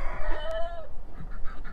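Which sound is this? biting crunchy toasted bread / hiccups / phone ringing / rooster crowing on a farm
rooster crowing on a farm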